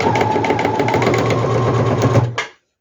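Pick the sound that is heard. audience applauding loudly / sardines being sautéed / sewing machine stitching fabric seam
sewing machine stitching fabric seam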